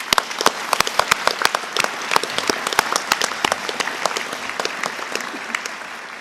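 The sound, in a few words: audience applause for graduating students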